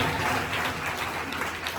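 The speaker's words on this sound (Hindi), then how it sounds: "जोरदार तालियां।" Steady, dense applause from an audience at a school Guru Purnima celebration, a continuous wash of clapping heard alone for a couple of seconds.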